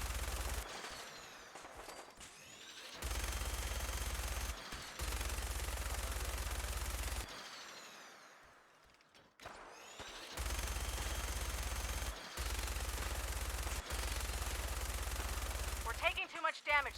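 Rapid gunfire strikes a vertibird aircraft in the game Fallout 4, coming as long, loud, sustained bursts broken by short gaps, with a voice talking over parts of it.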